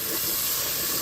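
Curry leaves hitting hot oil while a beef curry is cooked, giving a steady, close hiss of sizzling with no pauses through the whole short moment.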